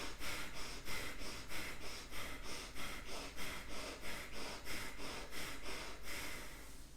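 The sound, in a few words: active breathing, inhaling and exhaling during yoga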